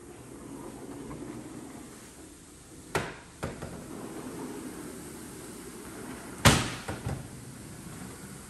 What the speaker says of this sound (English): Gem 4800 patio multi-slide door